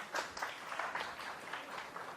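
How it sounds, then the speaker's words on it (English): An audience at a radiographers' state conference applauds, fairly faint and scattered claps sounding somewhat distant and uneven over the short stretch. "Please give a huge round of applause."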